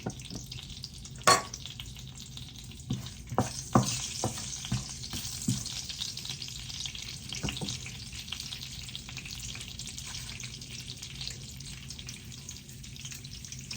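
Mustard seeds, fennel, fenugreek and cumin hit hot oil and sizzle loudly, with several sharp pops and crackles early on, then settle into a steady, softer frying hiss.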